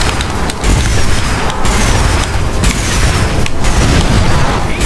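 A dense, continuous barrage of booming missile blasts from Dr. N. Gin's gun in Crash Tag Team Racing, loud and close, with sharp pops punctuating the roar.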